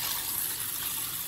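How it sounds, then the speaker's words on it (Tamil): Water is poured into a bowl to wash horsegram, a steady, close rushing hiss of liquid filling the bowl for a brief moment. "தண்ணி ஊத்திட்டு நல்லா ரெண்டு மூணு தடவை நல்லா கழுவிக்கணும்."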